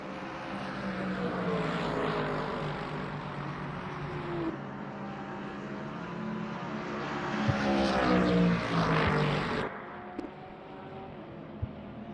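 A GT3 race car engine drones down the straight at Fuji Speedway, a sustained, loud mechanical roar with shifting pitch that cuts off abruptly near the end.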